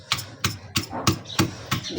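Dried chilies pounded by hand in a mortar for a mint and pomegranate-seed chutney, with steady rhythmic thuds about every third of a second, close and fairly loud, with no talk.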